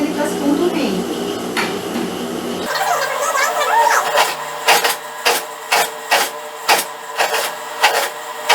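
Sewing machine topstitching close to the edge of a turned bias binding on a child's ruffled blouse, quick rhythmic mechanical bursts in short repeated runs at close range, with speech beforehand.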